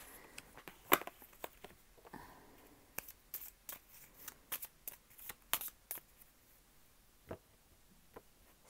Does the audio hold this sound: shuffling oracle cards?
yes